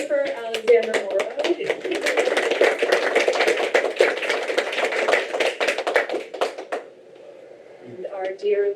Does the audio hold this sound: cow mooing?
no